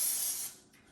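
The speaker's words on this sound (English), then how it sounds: "we're gonna put a little more spray oil so that it gets cooked nicely" A short, soft hiss of cooking oil sprayed from a spray can onto potatoes before they go into an air fryer, lasting about half a second before fading to quiet.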